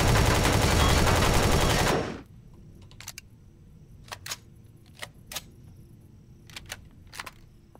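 Gunfire from a weapon in the video game Empyrion Galactic Survival: a loud, dense two-second burst of rapid shots that cuts off abruptly, followed by quiet background with scattered sharp clicks.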